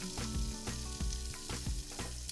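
Garlic sizzling in olive oil in a pan in a Greek kitchen, a loud continuous frying hiss broken by rhythmic scraping strokes as it is stirred, with no talk.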